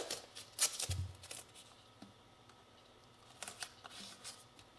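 Blue painter's tape being handled and torn to mask an oil tank on a Yamaha YL1 motorcycle: a few soft rustles and short crisp tearing bursts, quiet and close, with no talking.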